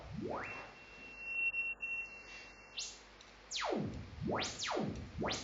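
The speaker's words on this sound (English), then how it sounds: "So it's a sine wave oscillator." Pure electronic tones from a sine wave oscillator sweeping up and down in pitch, several quick glides following a brief steady tone, clean and moderately quiet.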